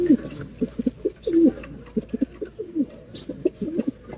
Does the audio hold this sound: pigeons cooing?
yes